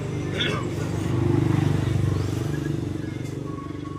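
A motorcycle engine runs close by with a steady, throbbing low rumble that swells slightly midway, while voices murmur faintly underneath.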